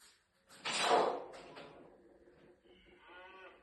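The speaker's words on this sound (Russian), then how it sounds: "Хто це? Корова." A cow moos once, loud and drawn out, followed by a softer lowing tail; a brief clunk and some faint background noise come after.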